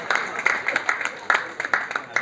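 Crowd applause for foreign delegates at the inaugural ceremony of the Food & Beverages Expo & SGCCI Global Village 2025, a steady patter of clapping with sharper bursts throughout.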